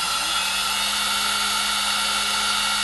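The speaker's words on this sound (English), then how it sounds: "It's quite a quiet spindle, even though it's air-cooled." An air-cooled spindle on a homebrew CNC machine runs at speed, giving off a steady, fairly quiet high-pitched whine with a faint low hum beneath it, constant throughout with no talking.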